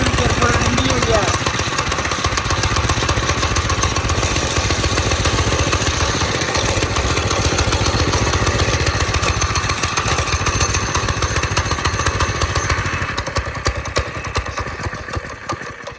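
A small go-kart engine putters at a steady, rattly idle close by for a long stretch, then fades slightly near the end, with faint voices in the background.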